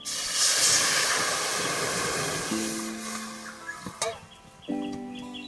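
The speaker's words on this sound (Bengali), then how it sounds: "লতিটা সিদ্ধ করার জন্য কড়াইতে দিয়ে দিচ্ছি জল" Water hisses and steams as it hits a hot wok for boiling taro stolons in a village kitchen, a loud sizzling burst that gradually fades, with a few clanks near the end.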